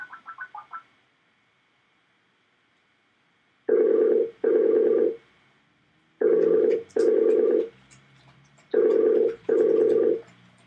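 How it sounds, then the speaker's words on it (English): Skype call ringing tone: a short chirp burst, then three spaced pairs of loud, even electronic tones with silence between, clean and close. "Nothing's better than listening to a phone dial on Skype."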